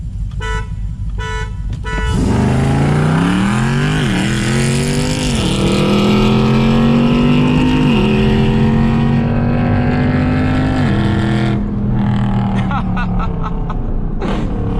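A tuned 2020 BMW M550i launches in a drag race against a Dodge SRT Durango. After a brief quiet start the engine bursts into a loud, close roar that climbs in pitch through several gear changes, then cuts off near the end.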